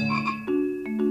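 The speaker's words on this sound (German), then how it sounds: "Ja, das ist ein echter Frosch." A real frog croaks loudly and close, a few bursts of croaking within about a second, heard alone without speech.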